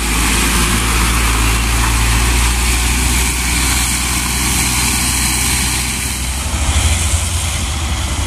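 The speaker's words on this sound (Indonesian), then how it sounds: "Mitsubishi Canter HD 125 PS" A Mitsubishi Canter HD 125 PS truck engine runs in heavy rain, a loud, steady low rumble with a dense broadband wash over it, continuous and close, no voices.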